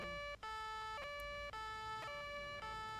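Police car sirens in the video game Arma wail in a fast, loud, repeating two-tone cycle with brief gaps, carrying on without any voices.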